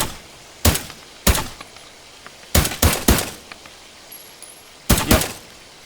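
Gunfire in the VR shooter game H3VR comes as sharp, loud single shots and quick pairs, spaced irregularly over a quiet background.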